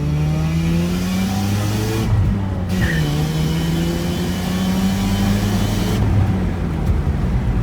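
A car engine runs loud and close, its pitch rising and falling as it revs through gears, with brief dips where the throttle lifts.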